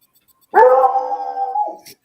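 A pet dog gives one drawn-out howling bark, loud and close, lasting over a second with a falling tail, alone in an otherwise quiet room.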